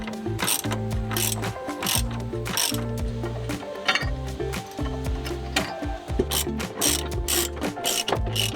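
A socket ratchet on a long extension turns through a Subaru subframe while installing a spacer, loud close rapid clicking of the pawl in repeated back-and-forth bursts throughout.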